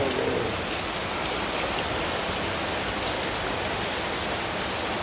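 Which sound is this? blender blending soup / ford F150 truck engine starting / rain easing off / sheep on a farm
rain easing off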